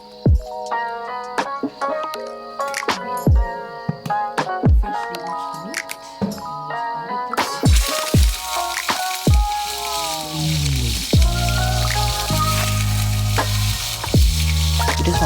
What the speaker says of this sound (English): Next, I'm going to heat some oil in a pan and add the meat to the pan to braise it.